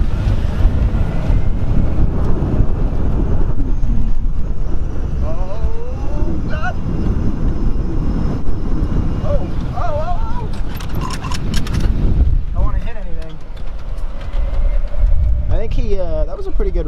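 Rebuilt golf carts drag race down a quarter-mile strip outdoors: a steady, loud rumble of motors runs throughout, buffeted by wind noise, with people talking over it.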